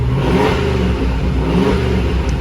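A cheap 4x4 truck engine runs loud and close after a spark plug fix, a rough revving roar that rises and settles with a steady mechanical pulse, no voices over it.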